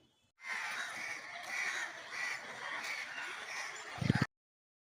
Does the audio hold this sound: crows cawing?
yes